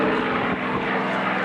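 A P-51 Mustang fitted with a Rolls-Royce Merlin V12 engine flies at an airshow, its steady propeller-engine drone loud and continuous throughout, with no talk over it.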